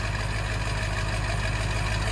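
A Ford 7.3 Powerstroke dump truck with a straight-pipe side exhaust idles after a cold start, a loud, steady diesel rumble with an even low throb throughout.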